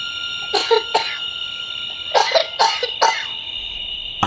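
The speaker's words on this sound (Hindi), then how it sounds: "कमरे में किसने खांसा?" Several sharp coughs sound in a quiet room during a Hindi horror story: a quick pair, then a burst of three or four more, with a faint steady electronic tone underneath.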